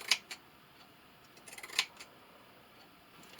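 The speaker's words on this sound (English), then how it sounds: "So I'm just going to take my scissors here. And I'm going to pink the edge." Pinking shears snip along the edge of fleece fabric for a sewn hat, two sharp close cuts at the start and another pair a little later, with quiet pauses between.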